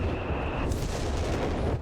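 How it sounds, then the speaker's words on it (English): Artillery fire in Company of Heroes 3, a steady low rumbling barrage of dense booms with a sharper crack near the middle, loud and continuous with no voices over it. "So much artillery, just flinging them out there"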